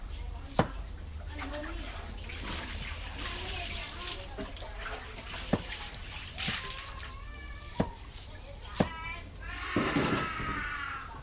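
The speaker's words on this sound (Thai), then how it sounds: "ล้างกระทะจะทอดปลาหมึกครับสักหน่อย" A wok is rinsed and scrubbed with water before squid is fried in it: close sloshing, trickling and splashes with a few sharp clanks of the pan, and voices faintly in the background.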